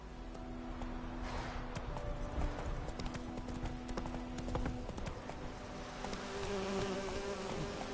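Horse hooves clip-clop at a walking pace in the video game Witcher 3, a steady sequence of light thuds over a buzzing insect ambience, with no voices.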